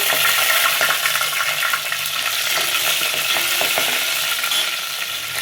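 Fenugreek seeds crackling and sizzling in hot oil in a frying pan, a dense, steady hiss with scattered small pops that continues loudly without pause.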